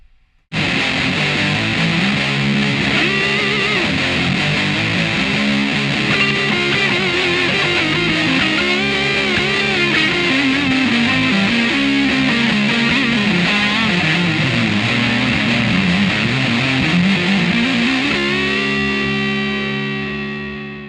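Heavily distorted electric guitar plays a continuous, fluid solo from a song with sliding bends, ending on a sustained ringing note that fades.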